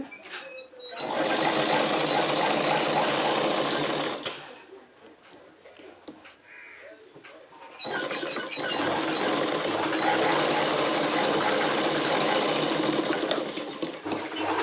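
An electric sewing machine stitches a folded fabric piece onto a pant in two long, loud, steady runs of rapid needle chatter. A quieter pause separates the runs, with faint handling noises in between.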